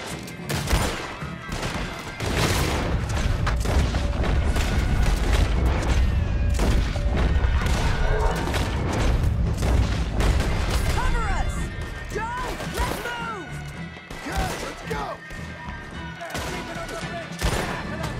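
Gunfire in Red Dead Redemption 2 rings out as a run of loud, sharp shots and crashing impacts in a busy fight, with a voice and background music underneath.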